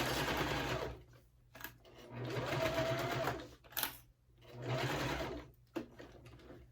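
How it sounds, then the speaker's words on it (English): A sewing machine back stitches a Harlequin wristlet bag, running in three steady whirring bursts separated by short pauses, close and clear with no talking. "going to do the same thing with the middle of my presser foot. Back stitch."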